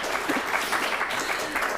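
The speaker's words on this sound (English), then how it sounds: "So I think that deserves a round of applause," A live audience at an art panel discussion claps in a sustained round of applause, a dense, even wash of many hands throughout.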